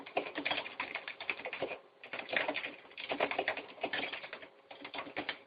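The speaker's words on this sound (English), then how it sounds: "Some of these references I'm typing into the Facebook, Eric's Facebook thread" Keys clatter on a computer keyboard in quick, uneven bursts of typing, with brief pauses between runs. The tapping is soft and close, with no one talking.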